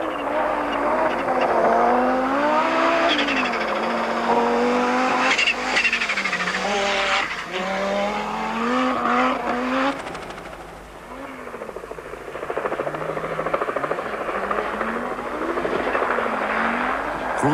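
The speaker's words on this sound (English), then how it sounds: "The water splash does little to settle the dust as the cars charge through." Rally cars roar through a water splash at a 1987 rally, engines revving and shifting pitch, loud and close, with brief bursts of rushing noise as they charge through.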